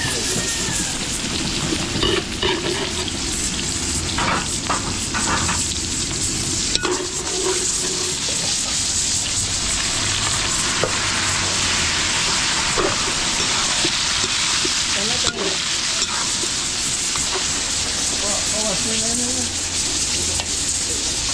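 Garlic and onions fry in a large pan in a catering kitchen in Porac, Pampanga, a loud continuous sizzle close by, with scraping stirs and clanks running through it.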